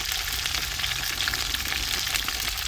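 Curry leaves sizzling in hot oil for vendakkai kara kuzhambu, a steady, loud, close crackling hiss that continues unbroken throughout.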